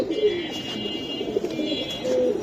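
Silver Giribaz racing pigeons coo in low, soft, repeated calls at close range, with a few faint higher chirps and some background noise around them.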